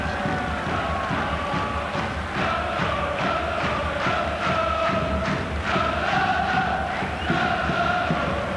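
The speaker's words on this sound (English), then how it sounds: "Crowd at least making it a bit more tuneful." A stadium crowd of football fans chants and sings through a Vitesse vs Liverpool UEFA Cup match, a steady, tuneful roar with rhythmic swells and occasional thumps, heard from within the dense mass of supporters.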